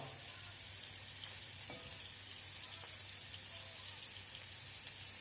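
Steady sizzling of fish frying in a pan, a constant crackling hiss with a few faint clinks, no voices.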